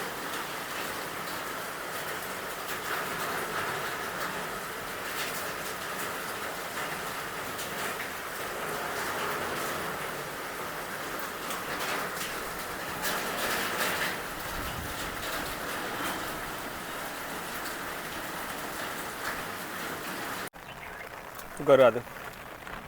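Heavy stormy rain pours over a flooded area near the Modhera crossroads as a dense, even hiss. A short spoken phrase breaks in near the end.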